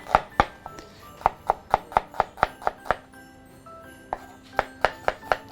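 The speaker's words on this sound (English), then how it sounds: "To slice the onion, I'm gonna cut the tail and head of the onion." A knife slicing through an onion on a cutting board, with a quick, steady run of sharp chops in two bursts separated by a short pause.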